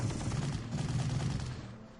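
Rapid bursts of battlefield gunfire from a Panzer Corps strategy game, a dense rattling volley that fades slightly toward the end, with no voice over it.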